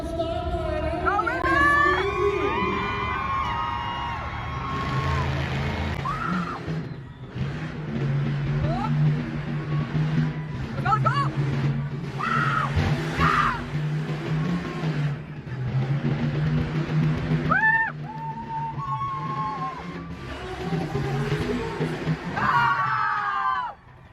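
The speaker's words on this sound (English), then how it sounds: "they also had some local competitors in regular trucks, just racing around" Regular trucks race around at a monster truck event, engines revving and roaring past over a cheering, screaming crowd, with a voice talking over the din.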